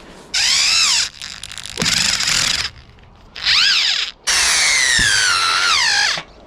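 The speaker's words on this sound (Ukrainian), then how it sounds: "Беремо металорезку." Small metal cutter biting into metal while building a greenhouse from window frames, in four loud close bursts of high whining, with short quiet gaps between cuts.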